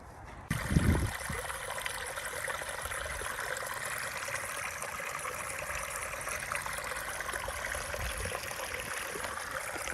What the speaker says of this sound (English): Just a bit of a rapids